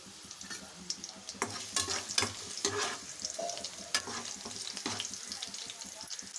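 Cumin seeds frying in hot oil for an okra pulusu, a steady soft sizzle broken by repeated sharp clinks and scrapes of a stirring spoon against the pan.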